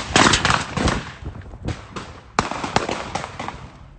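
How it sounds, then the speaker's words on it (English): Gunshots during a rapper's Instagram live broadcast: a rapid volley of loud, sharp cracks, then scattered single bangs after a short pause, with no talk over them. "Seconds later, gunshots start going off and the video starts getting blurry as the rapper runs to avoid getting hit."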